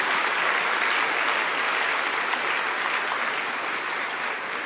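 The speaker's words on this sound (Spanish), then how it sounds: "pido un aplauso para el padre Raimundo." A church congregation applauds Father Raimundo on his 90th birthday during a Mass of thanksgiving, dense sustained clapping from many hands filling the space at an even level.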